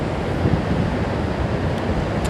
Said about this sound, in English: this is some really rough wind